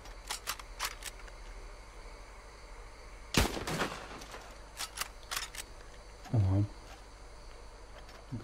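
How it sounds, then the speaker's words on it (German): A single sharp gunshot cracks out in the Red Dead Redemption 2 Online Western video game, loud and sudden against quiet ambient game sounds, followed later by a brief low thud. "Mit einem Schuss gekillt, obwohl ich ihn eigentlich nicht mal gesehen habe."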